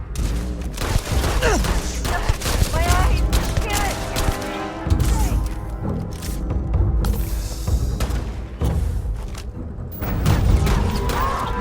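Gunfire in the video game Starfield, a busy stretch of layered shots, thuds and booms over a dense game soundscape, with a player's voice talking at moments.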